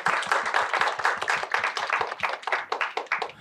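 An audience applauds a professor and three teachers at a talk concert on early-childhood education, a steady patter of many hands clapping close by, fairly loud and without voices.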